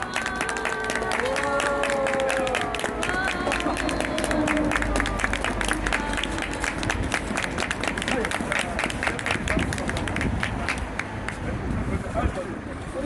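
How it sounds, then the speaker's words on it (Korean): Scattered clapping from a gathered crowd at a party signboard-hanging ceremony in Daejeon, with distinct individual claps audible and people talking loudly over it throughout. "우리 다 같이 박수를 한번 쳐주시고"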